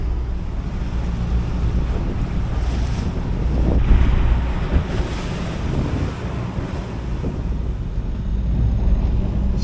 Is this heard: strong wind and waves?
yes